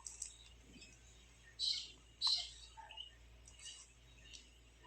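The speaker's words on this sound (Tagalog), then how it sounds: "Ang ingay ng mga ibon." Several short chirps from many birds ring out over quiet background hiss, a couple of louder calls standing out among fainter scattered ones.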